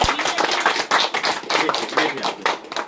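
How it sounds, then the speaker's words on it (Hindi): A congregation at a Christian gathering in India claps loudly and fast. The dense applause is close and continuous, with no talking over it. "जोरदार तालियां बजाना"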